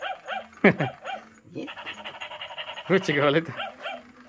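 Small pet dog at home making short panting yaps and whimpers, several quick bursts close to the microphone while someone talks over and between them.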